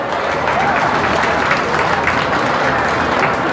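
Crowd applauding exhibitors at a county fair beef cattle show, a dense, steady burst of clapping at full strength throughout, with no voices over it.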